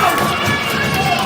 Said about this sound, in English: this Kenora crowd is quite loud